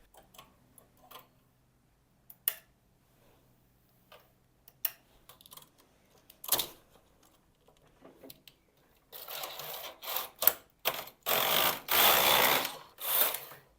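A knitting machine casting on 80 needles with acrylic yarn, its carriage giving scattered sharp clicks and ticks at first, then several loud, rushing sweeps back and forth near the end, with no talk.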